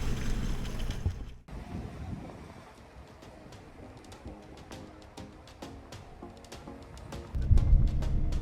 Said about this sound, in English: The Jeep just idles through.